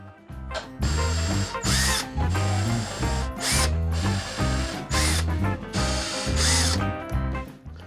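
A power drill bores holes in a semi-hollow guitar body, with several loud bursts of whining motor separated by short pauses, close and with no talking.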